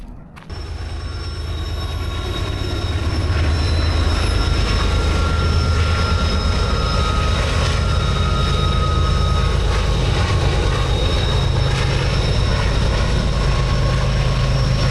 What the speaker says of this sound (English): There were 4 engines to pull that train over the pass.